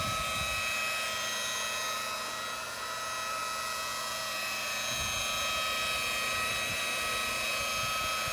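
A rotary polisher runs steadily while buffing coarse compound on a boat hull, giving a continuous high whine with a constant motor drone and no pauses, close and fairly loud.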